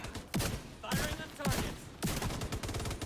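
Rapid gunfire in the shooter game Division 2: several bursts of automatic fire crack out at regular intervals, each followed by rattling shots, with faint voices mixed underneath.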